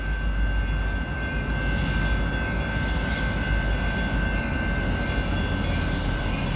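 Local freight train rolling eastbound in Battle Creek, Michigan, a steady rumble of railcars passing with a constant high whine and faint squeals, moderately loud and continuous, no talking.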